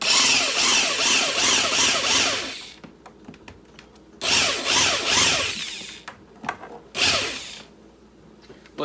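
Hand-cranked roll crimping tool turning a 32 gauge shotshell hull lubricated with WD-40, giving three loud, close bursts of rapid scraping, whirring friction separated by brief pauses with faint clicks and handling.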